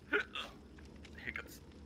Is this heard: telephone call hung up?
no